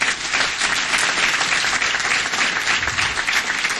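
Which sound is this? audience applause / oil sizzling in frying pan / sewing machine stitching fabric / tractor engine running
audience applause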